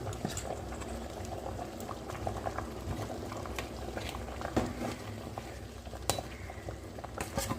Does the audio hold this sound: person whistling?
no